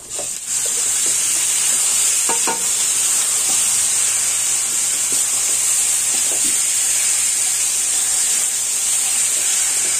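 Chicken frying in a pan for curry, a steady loud sizzle with intermittent scraping stirs and clinks of a utensil, no voices.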